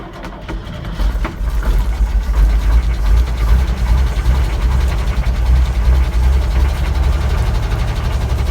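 A GMC 478 big block V6 cranks and catches, then runs with a loud, steady low rumble and a slightly uneven pulse, heard up close throughout.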